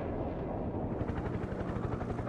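Helicopter in the modern real-time strategy game Broken Arrow, a steady dense rotor roar with a pulsing chop that grows busier partway through, loud and continuous with no talk.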